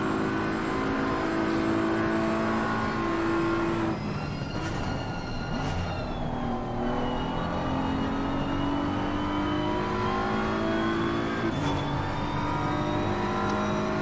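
Race cars in the Assetto Corsa Competizione racing game circle Monza, including a BMW, with steady loud engine drone and rising, shifting pitch as cars pass and accelerate throughout, no talk heard.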